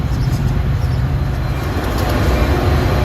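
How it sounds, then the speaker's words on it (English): Metra Union Pacific West Line train 45 bound for Elburn rumbling past in downtown Chicago, a steady loud low roar of wheels and cars, close and continuous throughout. "here goes train 45 to Elburn"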